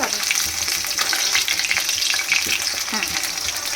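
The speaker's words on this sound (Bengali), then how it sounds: "তো আলুগুলো ভাজা হচ্ছে" Potatoes frying in a pan for a meat dish, a steady close sizzle with bursts of crackle and the occasional scrape of stirring, with no talk.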